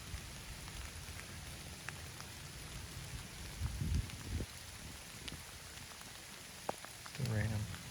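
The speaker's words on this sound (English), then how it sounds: "Still raining." Rain falling in woods during a hunting outing, a faint steady patter of drops on leaves and ground with a few brief louder rustles.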